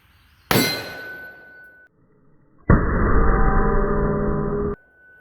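Two loud, close big-bore handgun shots, each a sharp blast followed by a ringing decay, the second ringing longer before cutting off, with no talk between them.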